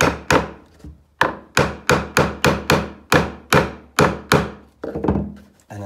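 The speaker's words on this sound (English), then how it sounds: "stick the chisel underneath, whack it with a hammer" A hammer strikes a chisel driven under carpet gripper, about a dozen sharp, close, loud wooden thwacks in a fairly regular rhythm, each ringing briefly before the next.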